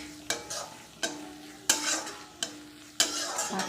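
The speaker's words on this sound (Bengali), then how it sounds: "আমি নেড়ে নিচ্ছি।" Bitter gourd and potatoes being stirred in a pan with a utensil, giving regular scraping strokes roughly every second over a steady background sizzle, close and fairly quiet.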